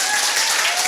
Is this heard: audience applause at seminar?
yes